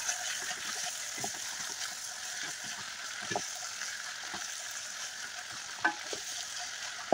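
Vegetables sizzle in olive oil in a pot, with ground meat and potatoes also part of the dish. A steady, soft frying hiss continues throughout, broken by occasional stirring scrapes and light clinks, with no speech.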